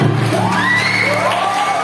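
A crowd of children cheers and shouts at a school medal and awards ceremony with rising whoops, loud and continuous throughout.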